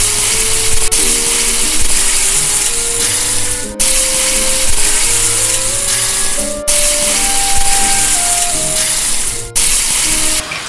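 Oil and butter heating together in a pan, a loud continuous sizzle and hiss broken by a few brief dips, with faint tonal hum underneath.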